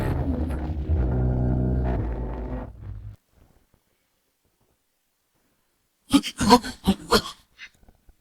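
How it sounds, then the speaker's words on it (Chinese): Thunder rolls during a snowy scene, a deep rumble lasting about three seconds that fades into silence, followed later by a cluster of sharp, crackling bursts. "这大雪天的，怎么会打雷闪电？"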